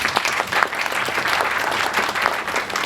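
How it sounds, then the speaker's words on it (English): An audience at the Speaks Out 3.0 event claps vigorously in a hall, producing a loud, dense, unbroken wash of applause with no voices over it. "Let us give them a big round of applause."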